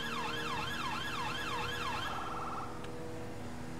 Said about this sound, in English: cancel the sirens at this time